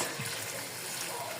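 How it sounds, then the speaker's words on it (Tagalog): Water pours into a cooking pot of chicken for tinolang manok, a steady, soft rushing gush that stays even for a brief moment. "Ilagay natin yung tubig."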